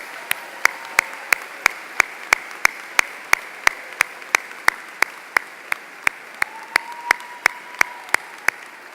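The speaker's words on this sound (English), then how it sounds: "How about if we could have one more round of applause for our senior choir," Sparse applause for a senior choir at a high school commencement, sharp individual claps spaced through the hall at a fairly regular pace, a few hands rather than a full crowd, with a faint tone drifting in the background.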